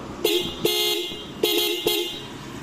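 A car horn honks four times in short, loud blasts, two close pairs separated by a pause, heard up close.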